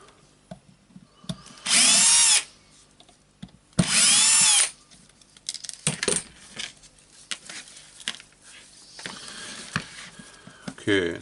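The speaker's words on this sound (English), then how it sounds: "Getting the screws out, taking the second wires up." A power drill removes screws from a Berner BROS 150 orbital sander during disassembly, giving two loud whirring bursts of about a second each, followed by quieter clinks and handling noises.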